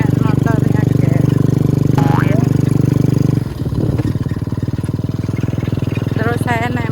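A motorcycle engine idles steadily in the foreground, a loud continuous drone that dips and settles partway through, with people talking over it throughout.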